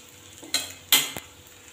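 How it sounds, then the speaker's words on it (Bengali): Kidney bean (rajma) burger patties are turned in a frying pan: a few sharp spatula clanks and scrapes over a faint sizzle, close and brief. "এইভাবে প্রত্যেকটা টিকি আমি উল্টো দিকগুলো ভেজে নেব।"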